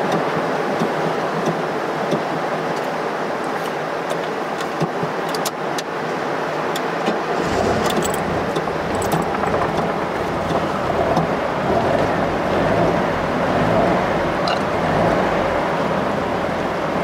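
An Alfa Romeo Spider 1300 engine starts partway through after rain and settles into a steady, close idle rumble, heard over a continuous wash of rain and ambient noise.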